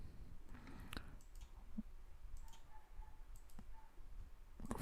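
Computer keyboard typing during a GeoGebra math lesson, a few scattered sharp clicks and taps at close range over a quiet background with faint room hum.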